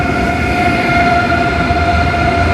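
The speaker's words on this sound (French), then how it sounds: "C'est le TGV en Allemagne." A TGV high-speed train running in Germany near Frankfurt gives a steady, loud rumble with a constant high whine, heard up close with no breaks and no talking.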